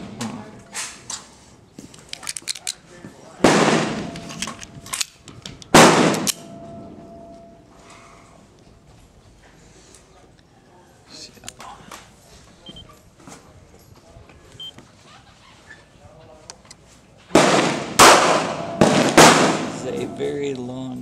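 A Smith & Wesson BG380 Bodyguard .380 ACP pocket pistol fires sharp, close cracks, a few separate shots and then a quick string of them after a quiet gap, with people talking in between.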